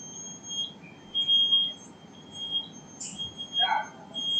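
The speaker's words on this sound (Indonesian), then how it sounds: "Nah, ini ketika terjadinya alarm ya teman-teman ya, maka dia akan lampu berkedip-kedip nih warna merah" An MCFA fire alarm control panel sounds in alarm, giving a steady, thin, high electronic tone over a low background rumble, with a few faint extra chirps.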